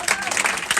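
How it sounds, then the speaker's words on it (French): Audience at the Duc des Lombards jazz club in Paris applauding the band and crew, a dense broadband patter of many hands clapping at close range, steady and loud across the brief moment. "Donc s'il vous plaît, applaudissez toute l'équipe."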